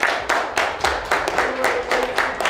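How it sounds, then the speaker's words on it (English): A small group claps in uneven bursts of sharp, close hand claps, celebrating a man who has just received a token. "Let's clap it up for Glock 30"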